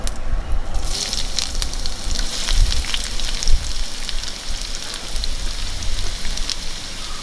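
Chopped onions dropped into coconut oil with curry leaves for egg bhurji, giving a close, steady crackling sizzle with a few louder pops and stirring knocks throughout, no one speaking.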